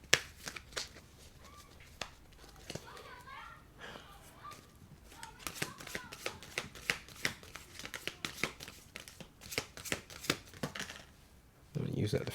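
Tarot cards being shuffled by hand, close up: a busy run of soft riffling, slapping and flicking sounds that comes in uneven bursts, with a brief louder rustle at the end.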